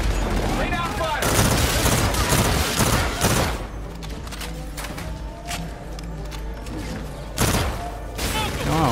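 Dense automatic gunfire rattles almost continuously in a Call of Duty: Infinite Warfare campaign battle, loud and close with booming impacts and a brief lull. Game voices are mixed in.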